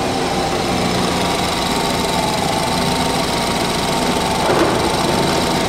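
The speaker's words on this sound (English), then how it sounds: "the engine sounds fine." A BMW 220i M Sport engine idles with a steady hum and busy, buzzing mechanical texture, continuously at a constant level with no talk.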